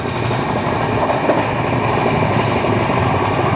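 The Amritsar Nanded Sachkhand Express runs fast on its rails, with a steady, loud roar of wheels and carriages and a faint rhythmic clatter throughout, no voices.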